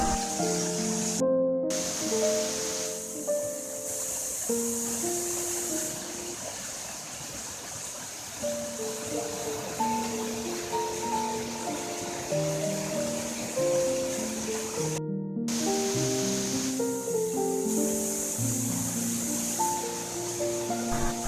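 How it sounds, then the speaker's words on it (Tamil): Kannimar waterfall in Dindigul pours continuously, a steady broad rush of falling water under layered background music with brief drop-outs, holding at an even, fairly loud level throughout. "நீங்கள் பார்த்துக்கிட்டு இருக்க இந்த அருவி தான் கன்னிமார் அருவி"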